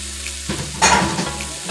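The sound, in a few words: seasoned salted butter being stirred in a hot pot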